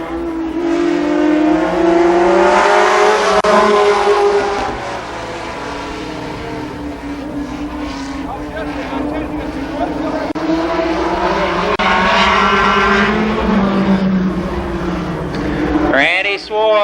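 Stock cars roar around Columbus Motor Speedway at a 1993 fall short-track race, engines droning loud and steady with rising and falling pitch as the pack passes, under continuous excited race commentary.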